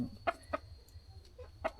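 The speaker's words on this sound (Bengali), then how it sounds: "দেশি মুরগি" Desi hens kept at a small home farm give a few short, soft clucks spaced irregularly over a low background hum.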